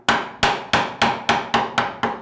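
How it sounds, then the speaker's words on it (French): Seven sharp, evenly spaced strikes of a mallet on a chisel taking small chips from wood to cut a half-lap joint, close and crisp, each ringing briefly before the next. "Là, je prends des petits copeaux pour vous montrer"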